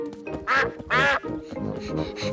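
Mrs. Duck, a cartoon duck from Peppa Pig, gives two loud nasal quacks in quick succession over light background music and chatter.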